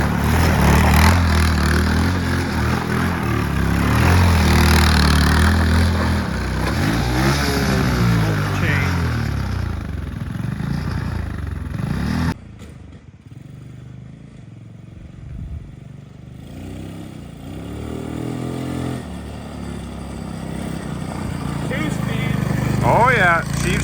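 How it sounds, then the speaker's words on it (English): A one-speed pit wheeler minibike engine with a rough idle revs and sputters outdoors, its pitch rising and falling. The engine drops out briefly midway, then picks up again louder, with voices now and then. "Steve's testing out the pit wheeler"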